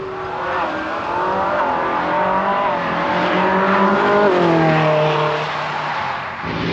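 A Ferrari race car roars past on the Goodwood track, its loud engine note rising and sweeping through gear changes as it drives hard, close and sustained over several seconds, with no talking.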